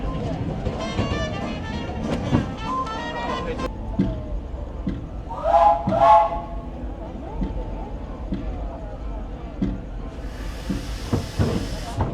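Disneyland Railroad steam train running along its track, a steady rumble and hiss with bursts of steam and clatter, heard from on board with voices and an announcement over it.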